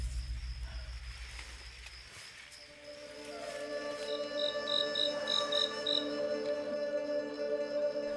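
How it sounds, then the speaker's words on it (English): A cricket gives a short series of high chirps over a sustained tonal drone after a low rumble fades, moderately loud with no talk. "The cricket is an ancient, archaic insect with at least 140 million years of history."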